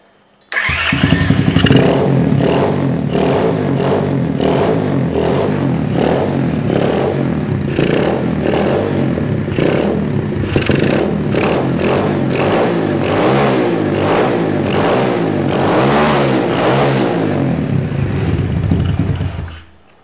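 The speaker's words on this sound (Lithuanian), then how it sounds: "Variklis dirba kuo puikiausia." A motorcycle engine fitted with a racing CDI starts and keeps running with a loud, steady, clattering idle for about twenty seconds before cutting off.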